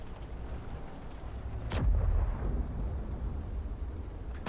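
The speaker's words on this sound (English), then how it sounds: "I love the sound of that gun, though." A tank cannon fires once in World of Tanks, a single heavy boom with a rumbling tail that fades over the following seconds against quiet background.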